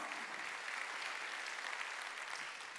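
A church congregation applauds during a Sunday worship service, a dense, steady wash of many hands clapping together, fairly distant and even in level throughout, with no talking over it.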